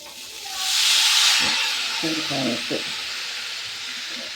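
Chinese potatoes (koorka) drop into a pan of fried onions and chillies, setting off a loud hissing burst of sizzle that settles into softer frying, with faint talk in the background.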